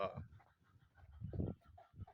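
Agitated chickens, newly introduced among ducks, cluck in short, uneven bursts nearby, rising to a louder squawk midway, with some low murmuring in between.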